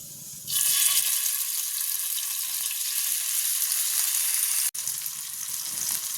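Fish pieces sizzling in hot oil in a pan, with curry leaves: a loud, steady broadband frying hiss that starts abruptly and continues throughout with one brief dip, close and alone without talk.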